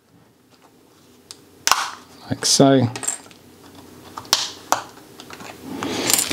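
Plastic keys are pried off a Lenovo ThinkPad P15s/T15 Gen 2 laptop keyboard, giving sharp little clicks and a light rattling clatter up close, with a brief spoken comment.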